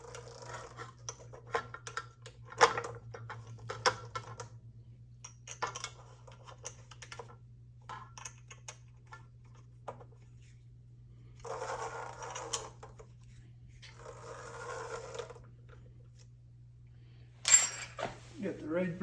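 Four machine screws fasten a plate during belt replacement on a Vicmarc VOD 300 lathe. Scattered small clicks and scrapes of handling parts sit over a constant low hum.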